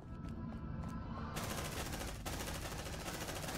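Rapid automatic gunfire in the video game Aliens: Dark Descent crackles in dense, loud bursts, starting as separate shots and then swelling into a continuous fusillade.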